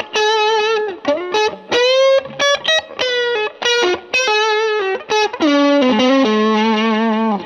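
A 1989 PRS Special electric guitar in copper metal finish played through heavy distortion, loud sustained lead notes and bends in quick phrases with short gaps, alone with no talking.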